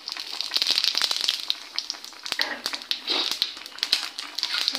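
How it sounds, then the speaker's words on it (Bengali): Cumin seeds dropped into hot oil left from frying rohu fish, giving a dense crackling sizzle with sharp pops throughout, close and fairly loud. "এই তেলের মধ্যে আমি জিরে দিয়ে নিচ্ছি।"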